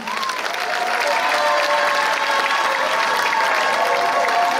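Loud, dense applause from a large youth conference audience in Bouaké honouring a man named Jefferson, swelling in the first half-second and then holding steady and near, with some cheering.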